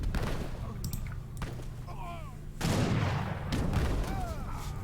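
Cannon volleys in a strategy game match, booming in bursts with sharp blasts and rolling rumble, separated by quieter battle noise, while a commentator talks over the action.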